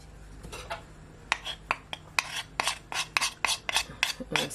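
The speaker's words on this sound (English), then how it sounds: "I scrape down the seasoning" Utensil scraping seasoning down the sides of a pan while cooking jerk chicken rasta pasta, a series of sharp, close scrapes and clinks in an irregular rhythm, growing more frequent toward the end.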